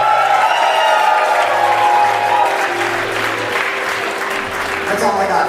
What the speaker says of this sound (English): please, with the loudest applause for my good friend and our head route center since we opened